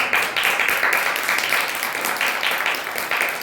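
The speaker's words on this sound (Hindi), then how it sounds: "ताली बजा के हम प्रभु के नाम को गाएं।" A church congregation claps hands in steady, rapid unison through a worship song, the dense applause loud and continuous for several seconds with no speech over it.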